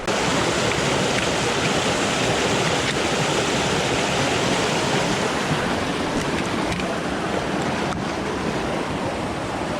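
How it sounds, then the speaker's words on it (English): A small river stream flowing along a hiking trail on a chilly morning, a loud, continuous broadband rush of water with no pauses, close to the bank. "Trying to find a crossing over this little river."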